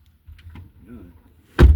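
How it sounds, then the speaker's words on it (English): A door caught by strong wind outdoors slams shut in a single loud, close bang after quiet rustling and faint voices. "The wind caught the door."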